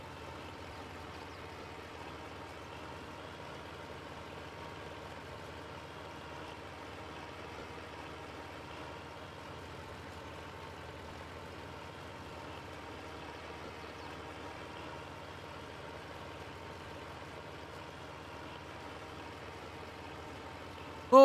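A John Deere 3020 tractor engine runs in Farming Simulator 22, a steady low idling drone that holds unchanged for about twenty seconds with no talk.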